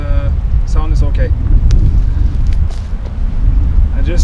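Strong wind buffets a microphone beside the water on a Norwegian perch fishing outing, a loud, constant low rumble that runs throughout, with someone speaking over it at the start and end.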